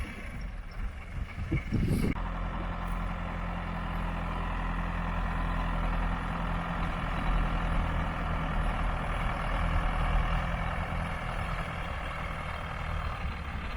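A John Deere 2850 tractor pulls away after compacting beet pulp, its diesel engine rumbling steadily and loudly at close range, preceded by a brief clunk near the start.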